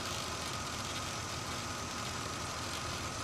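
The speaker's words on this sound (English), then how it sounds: "maybe a little bit of noise from the alternator." A 1978 Corvette with an L48 engine idles steadily and close up, a continuous even rumble with a faint whine that may come from the alternator, and no voices.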